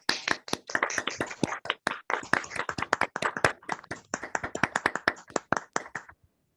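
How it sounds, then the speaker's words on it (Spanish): Participants in an online university lecture on error-correcting codes clap through their open microphones, a crisp, uneven patter of individual hand claps that overlaps and then stops abruptly, close and dry with no talking. "yo invito a todos a que si puedan abran sus micrófonos para aplaudirte"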